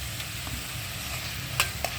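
Ghee added to frying onions and tomatoes in a pan for pepper chicken, a steady close sizzle with a couple of brief spoon clicks and no talk.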